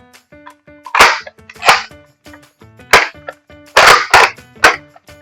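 A Nerf Slingshot toy blaster fires repeatedly, making loud, sharp snapping pops at irregular intervals, close by, with a faint tonal hum running underneath.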